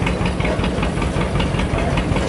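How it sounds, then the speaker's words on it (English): Front end of a vintage tractor powering a cedar shingle mill: a dense, continuous engine roar with a steady rapid knocking pulse and hissing noise, loud and unbroken throughout. "Quite the engine on that, huh?"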